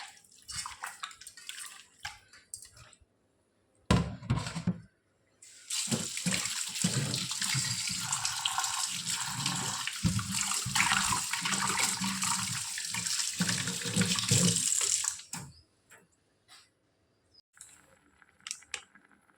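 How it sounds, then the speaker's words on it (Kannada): Raw chicken being washed under a running kitchen tap: a steady, fairly loud stream of water splashing for about ten seconds, with shorter bursts of splashing and handling noise before and after. "ಮೊದಲು ಚಿಕನ್ಗೆ ಸ್ವಲ್ಪ ಅರಸಿನ ಹುಡಿ ಮತ್ತು ಉಪ್ಪು ಹಾಕಿ ಚೆನ್ನಾಗಿ ಮಿಕ್ಸ್ ಮಾಡಿ ತೊಳೆಯಬೇಕು"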